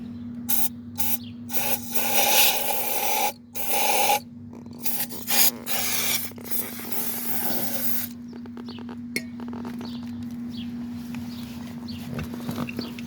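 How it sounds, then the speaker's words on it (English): Scraping and rasping in the spark plug hole of a 1966 3hp engine, in short irregular bursts and broken rubbing strokes close to the mic over a steady low hum. "Just cleaning out the plug hole."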